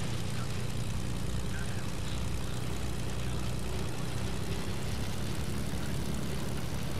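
An airplane engine in a video game drones in a low, continuous propeller hum, steady and fairly quiet throughout with no talking over it.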